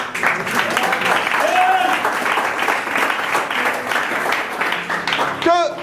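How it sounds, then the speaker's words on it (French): A church congregation applauds and cheers in a packed hall, with sustained clapping mixed with shouts and crowd voices and a loud outburst near the end. "Mais acclamez si vous aimez."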